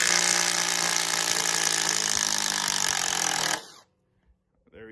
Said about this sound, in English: it seems like the Dewalt actually struggled a little taking out the Ryobi bolt